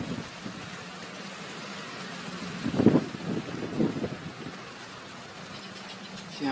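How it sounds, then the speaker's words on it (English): Wind gusts against the microphone on a windy hilltop by a meditation bench, a low rumbling buffet that swells in a couple of stronger bursts midway, then settles back to a steady murmur. "it is quite windy up here today"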